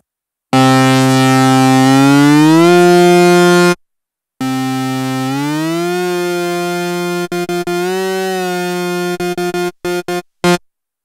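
A Behringer Poly D synthesizer plays a sawtooth oscillator layered with a square oscillator, giving loud, buzzy sustained tones that glide between pitches, then short stabs and a few staccato notes at the end.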